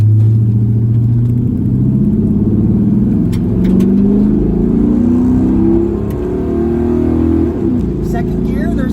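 A 1970 El Camino's engine pulls in first gear on a test drive, a loud steady low rumble that rises and swells as it accelerates, with a voice talking over it.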